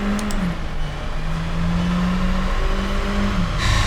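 A 2016 Skoda Rapid 1.2 TSI DSG car accelerates hard during a performance test, its engine note rising in a sustained, steady drone heard from inside the cabin, loud and continuous with no talking.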